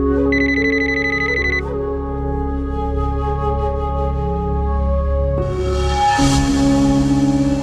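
A mobile phone rings with a loud, steady electronic ringtone, a repeating tonal melody that shifts pitch partway through and plays alone with no talking.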